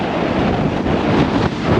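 Strong cold wind sweeps the Taman coast, a loud, continuous rumbling buffet of gusts across the microphone with no voices.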